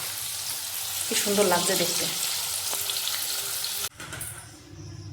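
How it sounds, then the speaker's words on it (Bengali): Bitter gourd rubbed with salt and turmeric fries in a wok with a loud, steady sizzle and some stirring. A voice speaks briefly over it, and the sizzle drops off abruptly near the end. "উচ্ছের মধ্যেও কিন্তু লবণ হলুদ দিয়ে মাখিয়ে তারপরে কড়াইতে দিলাম"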